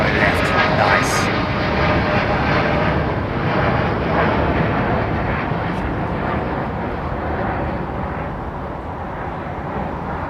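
A Virgin Dreamliner taxis at London Heathrow Airport, its jet engines producing a loud, steady roar that fades slightly toward the end, with no talk over it.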